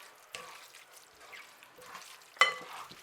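Spaghetti marinara being mixed through sauce in a pan, faint soft sizzling and scraping stir sounds with a sharper clink near the end.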